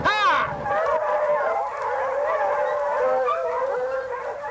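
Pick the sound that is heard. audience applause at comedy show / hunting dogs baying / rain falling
hunting dogs baying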